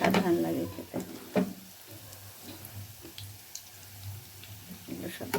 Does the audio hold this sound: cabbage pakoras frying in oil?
yes